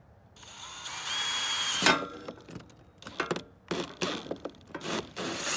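A 2.5 inch hole saw bores through plastic for an ATV snorkel. A steady close whir builds, then breaks into short grinding bursts with brief pauses between them.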